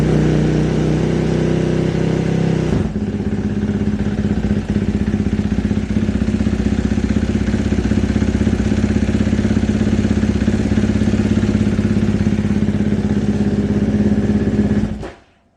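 A KTM 450SXF dirt bike engine fires up after a starter crank and settles into a steady, loud, close idle with a low thrumming note, then cuts off abruptly near the end.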